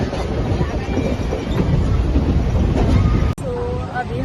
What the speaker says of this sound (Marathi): तो अभी हमने दादर से ट्रेन पकड़ा और बहुत ज़्यादा क्राउड है।